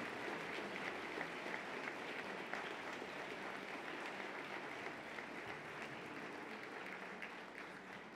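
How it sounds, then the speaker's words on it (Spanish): Sustained applause from a ceremony audience honouring distinguished officials at a 168th anniversary event, steady and fairly distant for about eight seconds with no talk over it. "Vamos a tributarle un caluroso aplauso a estos distinguidos funcionarios y funcionarias."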